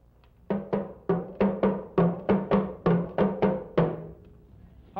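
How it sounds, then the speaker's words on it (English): Two hourglass dono drums from West Africa play the same pattern together, a steady run of about eleven even, resonant strikes with pitched, bending tones, close and alone with no talk. "We next have the 2 hourglass drums, or dono drums."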